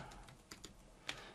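A few soft, quiet keystrokes on a computer keyboard entering a PowerShell command, sparse clicks against a faint background.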